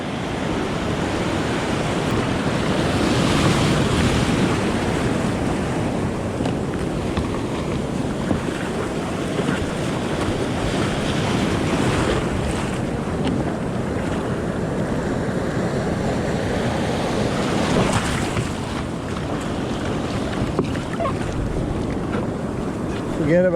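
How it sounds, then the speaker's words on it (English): Heavy ocean surf breaks and churns off the Gold Coast during an offshore kayak fishing trip. A loud, continuous wash of waves is mixed with strong wind buffeting the microphone, with no clear speech over it. "Got some decent waves for sure."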